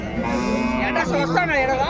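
A calf moos at the Punganur cattle market in a long, drawn-out call with a rising, wavering tone, close by, while a voice talks faintly underneath.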